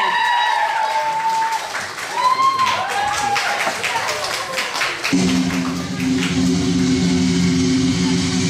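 Audience applause at a Mister and Miss contest on a camp stage, steady clapping under a presenter's voice, then a loud buzzing hum cuts in about halfway and continues beneath the clapping.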